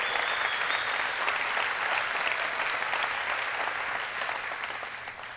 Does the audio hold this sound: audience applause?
yes